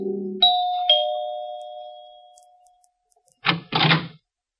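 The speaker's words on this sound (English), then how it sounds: "75 Park Avenue, made it with no trouble, and rang the bell to Helen's apartment." An apartment doorbell rings with a clear two-tone ding-dong chime that fades out slowly, followed by a couple of soft door-like thuds after a pause.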